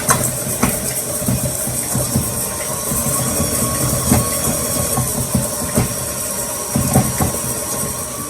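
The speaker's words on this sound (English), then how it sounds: "we're going to start the mixer and combine the butter and sugar" An electric mixer creams butter and brown sugar for chocolate spice cookies, a steady mechanical whir with a rhythmic knocking clatter running throughout, no voices.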